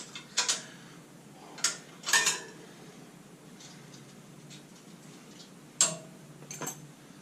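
Removing a bolt from a Douglas TS 350 tank carrier: sharp metallic clicks and clinks of tools on the bolt come in short scattered bursts, close and distinct against a quiet background.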